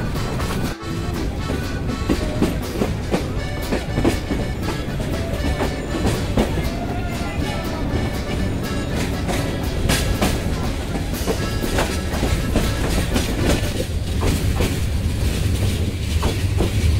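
The Jayantika Express rolls along the rails toward Dhaka, a loud continuous rumble with rhythmic clickety-clack of wheels over joints and occasional metallic clanks, steady throughout.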